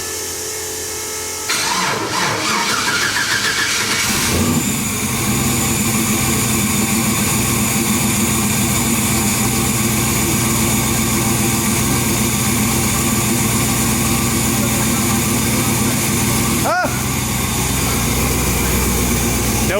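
A Mazda RX-7 engine cranks briefly, then catches and settles into a loud, steady, raspy idle that runs on with no break, with a short sharp interruption near the end.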